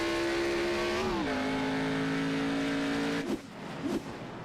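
Race car engine in a racing video game holds a steady high drone, shifts pitch downward, then cuts out into brief rough bursts and scrapes near the end.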